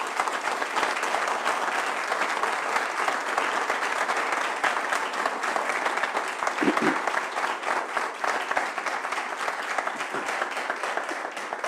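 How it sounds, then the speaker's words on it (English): At a county board of supervisors meeting, the audience applauds after a public speaker, a steady, dense wash of clapping from a roomful of people lasting over ten seconds. "Don't applaud, just throw money."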